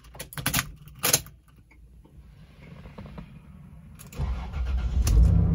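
Keys jingle close by, then a 1997 Toyota Land Cruiser Prado 90 Series VX engine cranks briefly and fires up into a low, steady idle.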